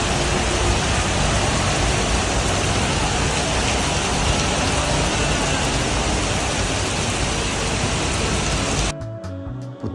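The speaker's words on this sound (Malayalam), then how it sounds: "മലേഷ്യയിൽ വർഷം മുഴുവനും വല്ലപ്പോഴുമൊക്കെ ഇങ്ങനെ മഴ പെയ്തുകൊണ്ടിരിക്കും" Steady, heavy rain falls in Malaysia as a dense, continuous hiss with no voices, then cuts off abruptly near the end, leaving only faint background sound.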